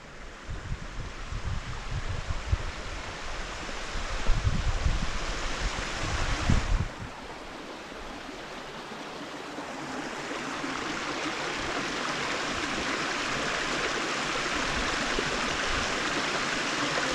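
Steady rushing water from a waterfall and stream along the Escarpment Trail in Thacher Park, a broad continuous roar close by, with heavier low thumps and rustle in the first seven seconds before settling into an even wash.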